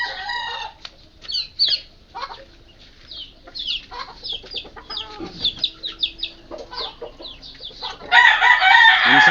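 Hens and young chicks cluck and peep in a run of close, repeated calls, with a hen's louder squawking burst near the end.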